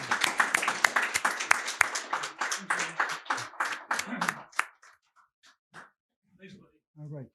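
An audience at a Rotary Club gathering claps to welcome a speaker: dense, fairly loud clapping for about five seconds, then thinning to scattered claps as a voice begins speaking.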